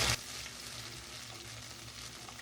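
Egg and potato curry with tomato paste and yogurt fries in a pan, giving a steady, soft sizzling hiss throughout with no voices.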